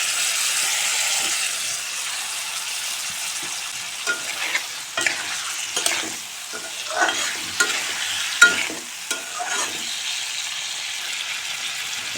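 Sliced cucumber sautéed in oil with spice paste for a fish curry, a low steady sizzle broken by repeated scraping stir strokes in the pan, close and clear.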